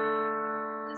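Short, fairly faint sustained musical tone forming a perfect fifth interval, the interval the common yellowthroat sings; it rings evenly and fades slightly over about a second.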